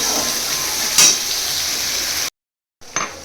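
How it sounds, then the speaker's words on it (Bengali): Mustard paste and tomato paste fry in a little oil in a home kitchen pan, giving a steady close sizzle broken by a brief stir. The sizzle cuts out for a moment, then resumes. "তো একটু ভালো করে ভেজে নেবো, দিয়ে তারপরে জল দেব"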